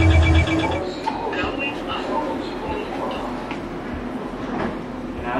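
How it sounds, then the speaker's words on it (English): A passenger train pulls out of a station, its low rumble steady and moderately loud with a brief tonal chime at the start and faint background voices. "the train leaves the station."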